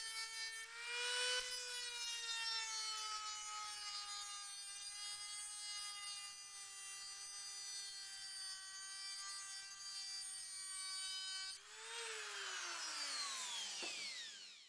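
Ryobi rotary tool with a cutoff disc grinding through high carbon steel, a loud close high-pitched whine held steadily for about eleven seconds, then a brief rise and a falling pitch as the tool spins down.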